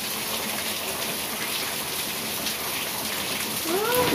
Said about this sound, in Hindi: लेकिन बहुत तेज पानी गिर रहा है